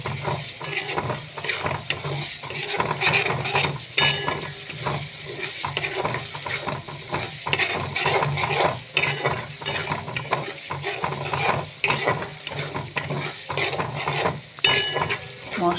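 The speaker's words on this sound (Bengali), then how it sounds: "মশলাটা ভালো করে কষিয়ে নিচ্ছি। এই মশলার মধ্যে আছে জিরা, আদা, গরম মশলা, টমেটো।" A Bengali spice paste of cumin, ginger, garam masala and tomato fries and is stirred in a pan, giving a steady close sizzle broken by frequent scraping strokes of a spatula throughout, with no talking.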